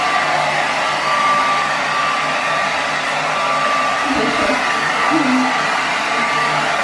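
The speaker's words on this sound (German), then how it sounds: "Okay, jetzt gehe ich Haare föhnen." A hair dryer runs continuously at close range while hair is being blow-dried, a steady loud whooshing roar with slight shifts in tone as it moves.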